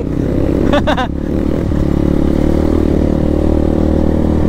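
A motorcycle engine rumbles steadily and close while riding a muddy mountain trail, with a brief clatter and scrape of the bike over rough, slick ground early on.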